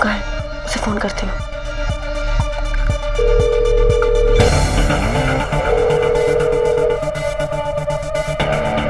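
A steady telephone dial tone sounds through a handset, broken by brief beeps, with music and clatter around it.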